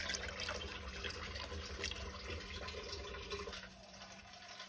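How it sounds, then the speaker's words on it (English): Water runs from a kitchen tap into a container for a slow cooker, a faint steady hiss and splash that eases slightly toward the end, with no talking. "I'm just getting the water now."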